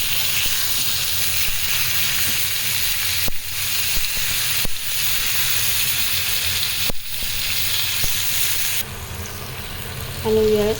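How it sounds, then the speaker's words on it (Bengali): Chopped tomatoes, onion, garlic and green chillies fry in a pan for a tomato sauce, giving a steady close sizzle with a few sharp stirring knocks and a shift in tone near the end. "পুরোটা ফ্রাই করে নেব"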